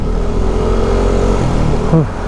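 A Yamaha Aerox scooter with its engine bored up to 183cc revs hard close to the microphone, the engine note climbing steadily before a sharp bend and drop near the end.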